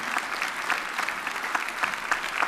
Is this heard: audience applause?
yes